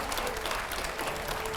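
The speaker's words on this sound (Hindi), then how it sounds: "जोरदार तालियां हो जाए एक बार।" Studio audience applause at a TV interview show, a short, dense burst of clapping at steady strength, close and uninterrupted.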